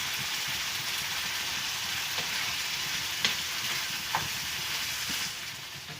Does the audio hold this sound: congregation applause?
no